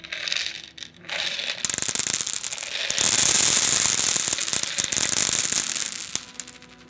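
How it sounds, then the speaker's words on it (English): Sweets poured onto a hard, clean black surface give a dense, close rattle of many small pieces clattering and skittering, building to a loud sustained patter before thinning out. "We've got a nice clean black surface to pour the sweets on."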